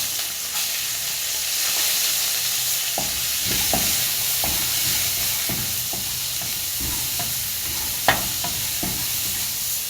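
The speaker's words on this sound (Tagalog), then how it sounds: "Dito ko rin po siya gigisahin. Luya. Lagay natin ang sibuyas." Ginger and onion sautéing in a pan for chicken kinamatisan make a constant bright sizzle up close, dotted with frequent light scrapes and taps of a spatula stirring, one sharper clack near the end.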